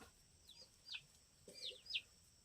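A chicken in a family's forest homestead, with goats kept nearby, gives short clucks and squawks in two quiet bursts, faint and close, with no talking.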